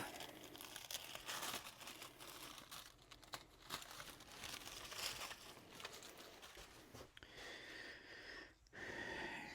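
A traced paper pattern is peeled off a wooden workpiece in a small woodshop, producing close, soft crinkling and tearing rustles over several seconds, with a brief pause before a final crackle.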